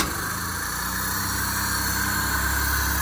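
A petrol car engine, freshly refitted, runs at a steady idle with an even low rumble and constant vibration, close and loud with no voices over it.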